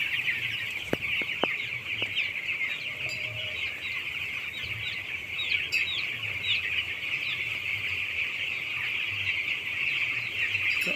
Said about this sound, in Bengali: দেখো, মুরগিগুলো তাড়ানোর সঙ্গে সঙ্গে বেশিরভাগ মুরগি জল খাচ্ছে, কোনোটা আবার খাবার খাচ্ছে।